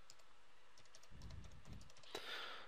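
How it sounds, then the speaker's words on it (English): Soft, quick keystrokes come from a computer keyboard as a word is typed into a search bar, a short run of close, light taps in a quiet room with a couple of duller thumps. "go up to the top to the search bar and type in developer"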